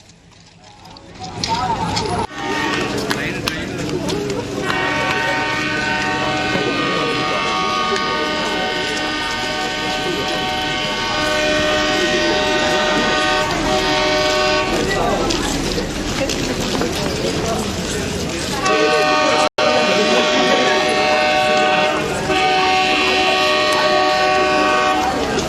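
An express train passes through a station near Klambakkam, with a long, loud blaring horn over steady rumbling wheels and carriage noise, heard up close for most of the passage while a voice speaks underneath.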